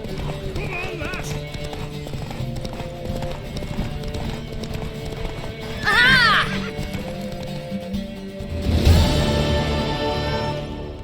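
Hooves clip-clop at a steady gallop under music and talk in The Witcher 3: Wild Hunt, with a horse's whinny rising sharply midway and another near the end.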